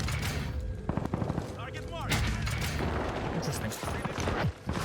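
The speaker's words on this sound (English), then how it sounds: "And this gun is OP. Oh, it's a PPSH." A PPSh submachine gun fires in Warzone on Rebirth Island, loud rapid bursts cracking repeatedly close by amid other game noise, with a voice talking over the shooting.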